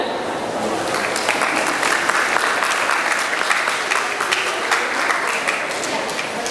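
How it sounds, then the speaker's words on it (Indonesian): An audience at an Indonesian tourism press conference claps steadily for several seconds, a dense, even applause from a modest crowd in an indoor room. "Kita berikan tepuk tangan."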